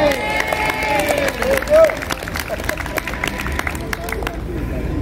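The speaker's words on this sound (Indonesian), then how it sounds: "Tepuk tangan buat Pak Wali kita" Applause from a crowd greets the mayor at a tai chi practice session held at Surabaya city hall, steady clapping mixed with crowd murmur and chatter over faint background music.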